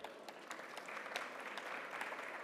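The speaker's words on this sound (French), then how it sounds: "Vous pouvez déjà l'applaudir" Faint audience applause at a conference on French overseas territories, a soft, steady patter of many hands heard from a distance with a few sharper claps poking through.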